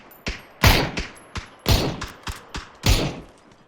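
Gunfire in a competitive shooter video game: a series of sharp, loud shots in an uneven rhythm, some heavy and booming, others lighter, about eight reports in quick succession with no talking.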